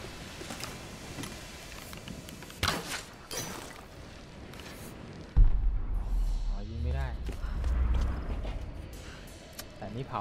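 A heavy cannon blast fires in Tomb Raider 2013, a sudden deep boom with rumbling tail midway through, amid other in-game mechanical clanks and creaks, with someone talking over the game sounds.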